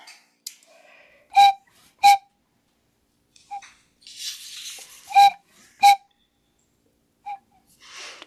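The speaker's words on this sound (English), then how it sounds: "Here is the sound of the brass hand-pumped whistle." A brass hand-pumped whistle from the tugboat Seguin, built around 1905, sounds in short breathy blasts, paired in two pulled groups with softer hissing puffs between them.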